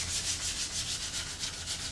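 Sandpaper rubs the edges of a Peavey Reactor guitar body in quick, even back-and-forth strokes, a close, steady rasping hiss that pulses several times a second, with no voices.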